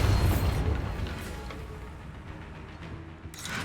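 A Bombarda explosion spell in a Harry Potter video game goes off with a single deep boom that rumbles and fades over a few seconds, ending with a faint hiss.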